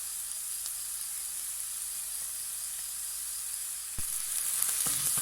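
Roughly chopped garlic cloves and onions sizzling in a pan for Portuguese bifanas, a steady close hiss of frying that swells slightly after a soft knock near the end, with no talking.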